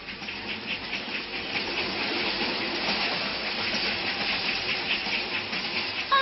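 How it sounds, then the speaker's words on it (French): An old steam locomotive lets out a steady, continuous hiss of steam with a faint rhythmic chuffing beneath it, heard alone and fairly close for several seconds. "C'est une vieille locomotive à vapeur."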